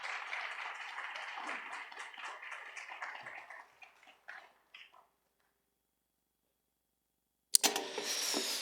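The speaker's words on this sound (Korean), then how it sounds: "우리 목사님 나오실 때 우리 힘내시라고 우리 박수 한번 다시 한번 부탁드릴까요?" A church congregation applauds the pastor coming to the pulpit, a soft, fairly distant round of clapping that thins and dies away into silence, followed by a sudden louder burst near the end.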